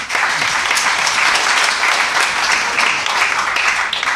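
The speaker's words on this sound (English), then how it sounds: "So a massive round of applause please for Nigel." A keynote audience at a Birmingham business networking event claps steadily for a speaker: dense, loud, sustained applause filling the whole stretch with no pauses.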